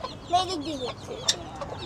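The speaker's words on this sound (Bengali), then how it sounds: "দেখেন আমাদের মুরগি কই ডিম পারছে" A hen clucks in short, close bursts after laying eggs, moderately loud against a quiet yard background.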